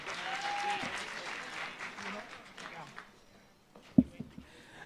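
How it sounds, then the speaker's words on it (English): An audience at a business summit gives applause that swells and then thins out over a few seconds, ending in quiet room tone broken by a sharp knock or thump and brief voices. "give another round of applause"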